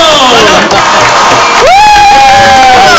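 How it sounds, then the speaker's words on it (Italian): Crowd at a karaoke night cheers and whoops loudly as a singer named Pino is introduced, with shouts and rising whistle-like calls over a constant roar of noise. "Vai con l'applauso Pino!"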